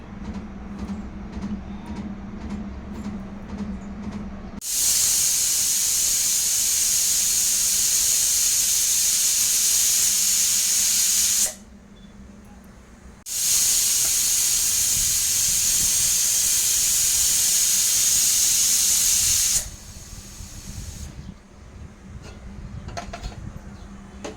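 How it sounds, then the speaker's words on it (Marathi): Two long, loud bursts of hissing steam from a pressure cooker whistle while cooking whole masoor lentils, each lasting several seconds, separated by a quieter stretch of low rumbling hum. "हे फक्त कुकरला आपण 2 शिट्ट्या करून शिजवून घेऊया."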